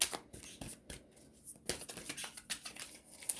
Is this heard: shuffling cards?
yes